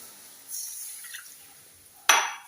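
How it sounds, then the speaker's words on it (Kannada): Water splashes into a pot in a short pour of one glass for sago and vermicelli payasam, followed by a sharp clink and a brief second gush near the end. "ಇವಾಗ ಫಸ್ಟ್ ನಾನು 1 ಲೋಟ ನೀರು ಹಾಕ್ತಾ ಇದ್ದೇನೆ"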